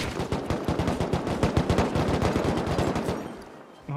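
An M2 machine gun fires in Rust in a rapid, sustained burst of loud, close shots, a dense regular rhythm that runs about three seconds before cutting off into quieter ambience.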